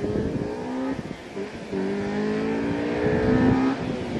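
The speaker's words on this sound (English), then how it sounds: "give it some brakes and see how much better this car stops with the new" A Honda Accord Euro fitted with new Hawk Performance brake pads stopping hard, heard as a close, steady engine and road drone with shifting tonal whine over about four seconds, and no talking.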